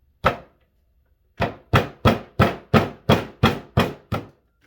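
Sharp metallic blows from a paleontology hammer hit hard rock: one blow, a pause, then eight evenly spaced cracks, close and crisp, each ringing briefly.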